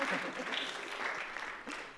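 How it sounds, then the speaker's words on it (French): Soft, steady applause from an audience at a film event at the Cinémathèque suisse, fairly faint and continuous, with some talk underneath. "on peut l'applaudir"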